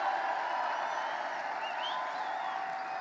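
Large indoor crowd at a rally for law enforcement officials in New York, cheering and applauding in a steady roar of claps and voices that holds level throughout.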